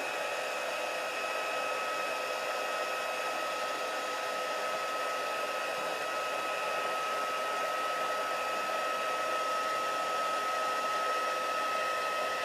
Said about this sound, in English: we will use our heat tool once more